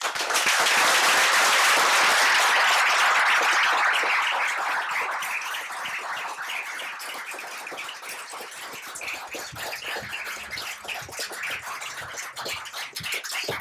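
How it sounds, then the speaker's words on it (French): A crowd at a coding bootcamp demo day in Marseille applauds a project together; strong clapping at first fades into thinner, scattered claps over the remaining seconds, with no voices. "Louis, est-ce que tu peux applaudir, s'il te plaît, le projet?"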